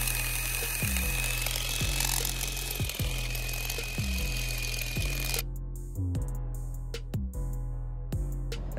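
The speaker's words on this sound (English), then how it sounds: "once you get to your biggest drill bit, either the 23/32 or 47/64, you're only gonna drill" Large drill bit boring into metal before tapping for a 1/2-inch MPT fitting, a loud steady grind with regular thumps about once a second, continuing under a camera-like high whine that cuts out partway.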